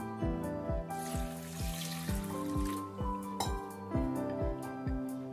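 Rice, wheat porridge grains and chana dal being rinsed in water in a vessel, with repeated sloshing, trickling and light clinks of grains and utensil in an irregular rhythm, close and moderately quiet.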